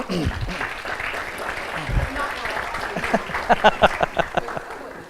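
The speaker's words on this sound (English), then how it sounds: "A round of applause for her, please." Audience applause at an education conference session, a steady patter of clapping that swells into several sharper, louder claps near the end, with a voice briefly heard at the start.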